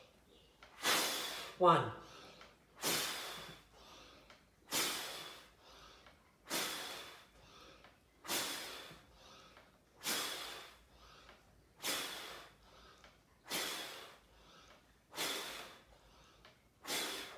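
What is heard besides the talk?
forceful brass-player breathing during push-ups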